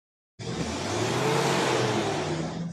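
Street traffic on a noisy road in Bolivia or Peru, where a passing motor vehicle swells in from silence into a loud, sustained engine roar close by, then holds steady.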